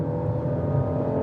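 Engine of a 2019 Fiat Panda Cross TwinAir holding high revs against the limiter in first gear, a steady buzzing drone with slight flutter, close and loud throughout.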